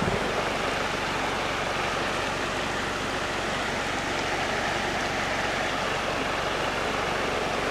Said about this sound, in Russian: Такая карельская река. Торфяная.